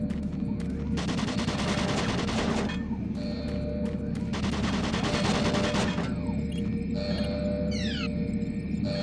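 Automated turret guns fire in Doom 3 BFG, with loud bursts of rapid gunfire over a constant rumbling game background, then brief rising electronic chirps near the end.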